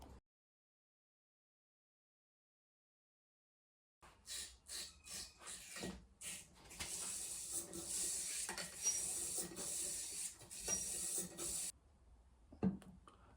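A cleaning rod scrubs inside an AR rifle barrel, giving repeated rough scraping strokes after four seconds of silence. The rasping grows denser and steadier as it goes, close and alone, and ends in a final thump.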